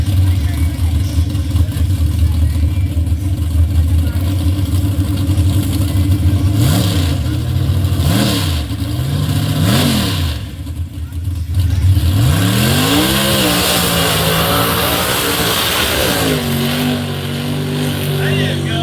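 A drag racing car makes a small tire pass, its engine roaring loudly and revving up and down through the gears, heard in recorded footage with people talking over the noise.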